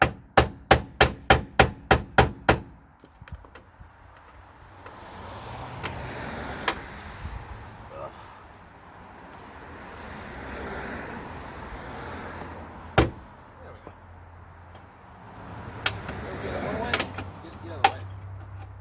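Hand chiseling on a body panel of a 1989 Honda Civic with a sharpened screwdriver: a fast run of about eight sharp metallic hammer strikes, then scattered single blows and scraping with a voice talking in between.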